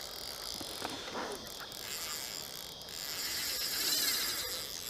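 A fishing reel's clutch ratchet clicks in a faint, quick, irregular run as a fish pulls line while margin fishing with a waggler float, under soft outdoor background noise.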